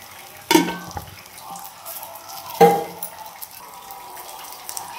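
Green chilies roasting in a pan, with two sharp clatters of a utensil against the pan over a quiet, steady low sizzle, close by and with no talking.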